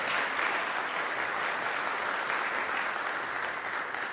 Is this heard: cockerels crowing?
no